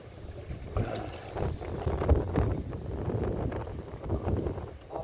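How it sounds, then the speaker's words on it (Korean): Strong wind gusts at a fishing spot buffet the microphone in a rumbling, uneven roar, rising and falling continuously at close range with no talk. "바람 장난 아닙니다."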